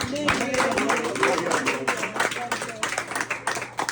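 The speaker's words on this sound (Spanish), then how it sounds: "Pues denle un aplauso a Dios" A church congregation clapping together, a steady run of quick claps that carries on for about four seconds, close and fairly loud, with voices mixed in underneath.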